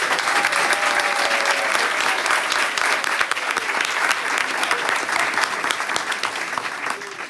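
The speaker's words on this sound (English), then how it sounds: "Can you share in a round of applause one more time for our trustees?" A school board meeting audience gives a steady round of applause for the trustees, dense and continuous, easing slightly toward the end, with a few voices mixed in.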